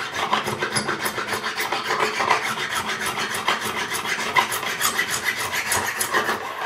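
Frets on a Tanglewood SJ-5 acoustic guitar being levelled with an abrasive, a close, loud, rhythmic rasping of rapid back-and-forth strokes that continues steadily throughout with no talking.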